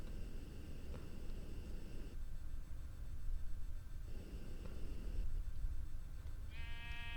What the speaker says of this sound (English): Let's kill a sheep.